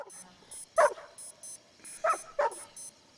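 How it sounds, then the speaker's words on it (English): A dog gives three sharp barks, one alone and then a quick pair, while a night alarm beeps in a steady repeating pattern behind it. "His night alarm rings as Sam barks at his upside-down hanging body."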